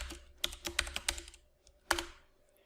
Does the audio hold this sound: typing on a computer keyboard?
yes